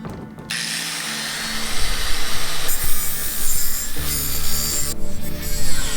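Angle grinder cutting a piece of scrap steel salvaged for a railroad-spike trowel, a steady loud abrasive whine and grinding rasp that runs continuously throughout, shifting slightly in pitch as the disc bites, with no talking.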